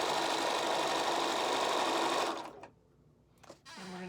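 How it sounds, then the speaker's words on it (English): A sewing machine running a steady, close whirring stitch as it sews a 1/4 inch seam allowance across the top of a quilt block, then cutting out abruptly into near quiet with a short mechanical click or two. "we're going to stitch right across the top there, 1/4 inch seam allowance"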